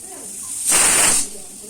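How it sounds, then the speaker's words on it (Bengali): Cloves dropped into hot oil give a sudden loud sizzle that swells for about half a second, then quickly settles back to a quieter background. "আর এবার আমি তেলের মধ্যে দিয়ে দেবো এই যে লবঙ্গ"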